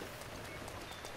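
Steady hiss of falling rain in a video game (Zelda: Breath of the Wild), with faint scattered patters, continuous and even throughout the short stretch.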